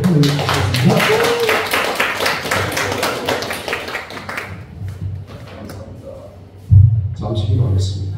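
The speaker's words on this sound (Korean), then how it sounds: "우리 김민영 동목사님 박수로 뜨겁게 환영해 주시겠습니다." A church congregation claps in welcome for a visiting pastor, a dense run of applause that fades after a few seconds, with a voice speaking over and after it.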